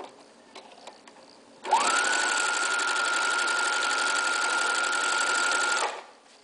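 Sewing machine stitching quilt binding, a fast even whirring run that starts abruptly, holds steady for about four seconds close to the microphone, then stops, with quiet room noise before and after.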